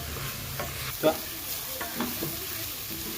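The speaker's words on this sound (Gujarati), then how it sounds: "ગ્રેવી પાકીને આવી રીતે કન્ટિન્યુ હલાવતું રહેવાનું" A spoon scrapes and stirs through a thick gravy of fresh turmeric and vegetables in a pan over a low, steady sizzle, with one louder knock partway through.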